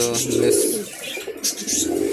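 A fantail pigeon at a bird shop gives soft, low cooing calls up close, a couple of rounded murmurs over faint background noise.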